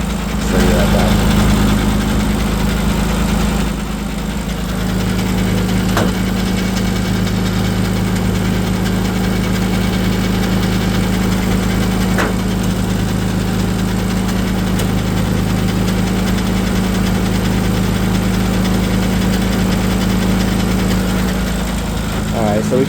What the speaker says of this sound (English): She idles cool, she idles smooth.